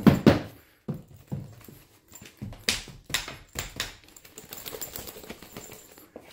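An Ultra Pro Deckbuilder Premium Pro-Binder for trading cards is shaken side to side, giving a quick series of dull thumps and rattles in uneven bursts that grow softer.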